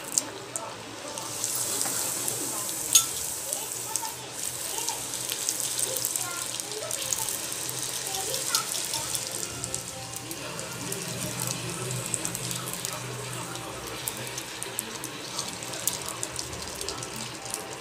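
Pieces of pani puri dough fry in hot oil, producing a continuous close bubbling hiss with fine crackles and occasional clinks, steady throughout.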